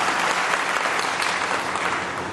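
An audience at a spiritual gathering claps in a dense, steady wash of applause, loud and sustained throughout with no gaps.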